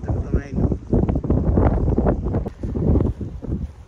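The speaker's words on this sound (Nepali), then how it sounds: "एकदम सिर हावा चलिरहेछ पानी पुरा बगे जस्तो बगिरहेको छ" Wind gusts across Lake Illawarra and buffets the microphone in heavy, uneven rumbling bursts that rise and fall over a few seconds.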